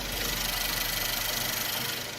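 A Renault Samsung SM5 Platinum gasoline sedan idles with its hood open, giving a smooth, steady, quiet engine hum with a faint even pulse and no talking.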